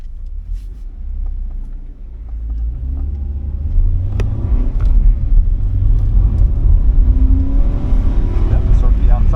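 A car on an oval track gives a low, loud, steady engine rumble that eases briefly and then swells as it accelerates toward the wall and carries on at high revs.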